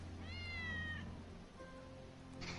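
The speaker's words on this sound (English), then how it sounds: "That's Wedge's cat." Wedge's cat in the Final Fantasy VII video game, a single drawn-out meow over a low steady game hum, moderately clear, followed by a fainter short sound.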